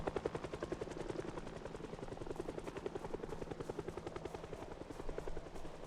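Steady, loud rotor chop from a video game helicopter, evenly pulsing and continuous throughout.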